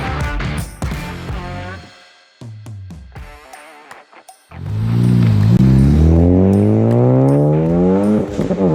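A 400+ horsepower Ford Focus ST accelerates hard from close by, its engine climbing through a gear after a brief pause, then revving loud and steady as pitch rises smoothly through the next gear.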